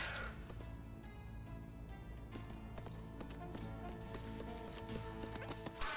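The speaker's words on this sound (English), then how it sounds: "Are those horses?" Horses whinny amid rhythmic hoof clip-clops and a low steady rumble, fairly distant and soft, with faint music-like tones underneath.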